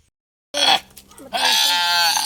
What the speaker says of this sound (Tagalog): sinisimulan na nila kung paano nila kakatayin itong kambing